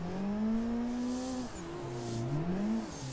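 A car engine drones and revs in a sim-drifting racing game, a steady close tone that rises, dips sharply and climbs again as the throttle shifts, with no voices.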